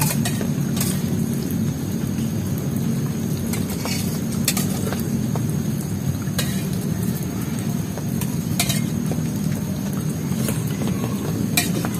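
Heavy rain pours down over a garden plot, a dense steady roar of drops with occasional sharper splashes and spatters throughout, loud and close, with no talk.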